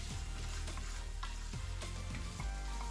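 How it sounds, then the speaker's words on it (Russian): Chicken fillet fries in a small amount of vegetable oil in a pan, a close, constant sizzle broken by stirring clatters and spatula scrapes. "на сковороде разогреваем небольшое количество растительного масла, выкладываем куриное филе и хорошо его обжариваем"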